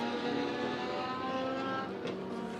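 Race cars roaring past on the oval at Monett Motor Speedway during heat races, a continuous loud engine drone rising and falling as cars pass, slightly distant.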